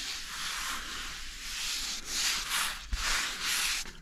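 Rag rubbing and wiping across CNC V-carved wood to wet the grain, a steady close scrubbing swish with a few pauses and one soft knock, no talk.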